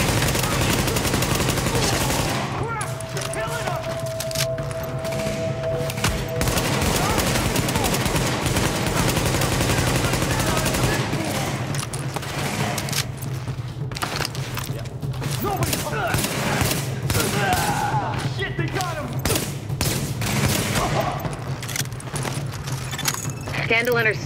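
Sustained gunfire in The Division at the Madison Field Hospital, dense rapid bursts and rattling shots running continuously at close range, with radio voices and shouting over the firefight.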